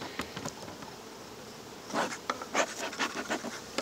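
Honey bees crawling and buzzing on beehive frames, a quiet close buzzing with soft scratchy rustles that grow busier toward the end.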